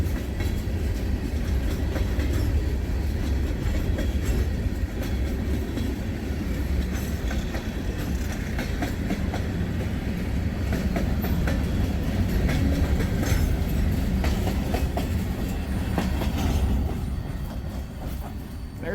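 A CSX freight train with a Conrail locomotive rolls past close by, a loud continuous rumble of railcars with rhythmic clickety-clack of wheels and occasional squeal, easing slightly near the end.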